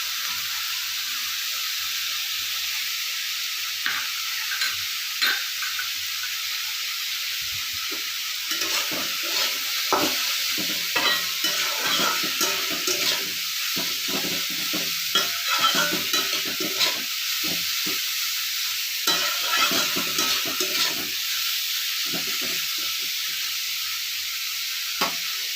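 Tender cucumbers are stir-fried in a pan, giving a continuous frying sizzle with repeated sharp spatula scrapes and knocks in irregular bursts.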